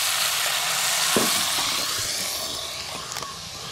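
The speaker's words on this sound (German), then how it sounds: "Und dann werden wir uns unser Kalbsfleisch hier schön anbrutzeln" Veal searing in a hot pan at an outdoor grill stop, giving a steady, loud, close sizzle and hiss throughout, with a few faint clicks and no talk.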